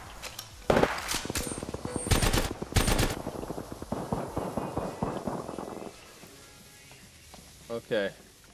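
Bursts of rapid gunfire in Apex Legends, a loud volley of automatic shots followed by scattered reports, then a softer stretch with a couple of brief sharp cracks near the end; voices talk over the firing.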